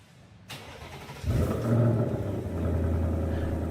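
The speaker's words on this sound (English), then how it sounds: "That's how loud the exhaust is in normal mode." A Renault Sport car's exhaust in normal mode in Forza Motorsport, played on a Clubsport DD+ wheel: the engine catches, then swells into a loud, steady droning rumble that holds and builds slightly toward the end.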